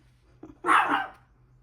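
A single sharp dog bark, preceded by a faint short yip, in an otherwise quiet room.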